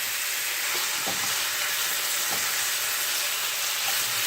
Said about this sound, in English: So I'm just going to move this around the pan.